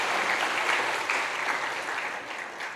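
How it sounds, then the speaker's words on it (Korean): Steady applause from a church congregation at a Korean Sunday worship service, continuous and fairly even throughout, somewhat distant. "우리 아이들에게 귀한 은혜를 주시는 주님께 한번 감사의 영광의 박수 올려드리겠습니다."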